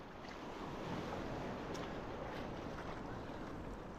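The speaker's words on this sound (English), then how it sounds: "There are not so many waves here today like there were at Falasarna." Small sea waves washing at Agia Marina beach, a continuous soft surf wash with light wind noise, steady and close, no voices.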